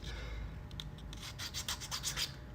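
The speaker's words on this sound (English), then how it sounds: "Sanding." Hand sanding on a sculpture, a run of short scraping strokes that grow quicker and more rhythmic toward the end, close and fairly quiet over a low background hum.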